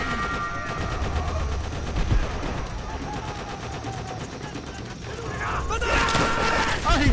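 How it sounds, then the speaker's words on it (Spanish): Enemy machine gun fire in Call of Duty: World at War, a dense stream of rapid bursts and mechanical rattles under battle noise and voices, swelling louder toward the end. "¡Ametralladora enemiga!"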